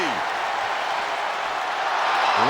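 Steady crowd roar and cheering from a WWE 2K23 wrestling match fill the arena throughout, loud and continuous, with a commentator's voice running over it.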